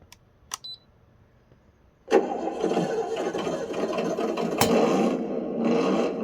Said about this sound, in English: if you don't want the engine sound